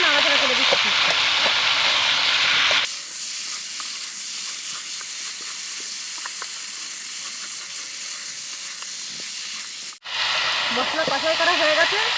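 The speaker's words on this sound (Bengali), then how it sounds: "2 মিনিট পর আগলা করে এই যে নাড়াচাড়া করে দিচ্ছি।" Fish and spices frying in a pan hiss loudly as they are stirred, then the sizzle drops to a softer simmer with faint scraping before flaring loud again near the end.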